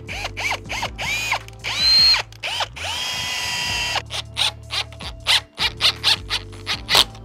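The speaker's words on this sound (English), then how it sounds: "now I'm gonna drill these pilot holes" Power drill boring pilot holes in wood for a homemade squat rack, loud and close, whining up and down in repeated short bursts with brief pauses.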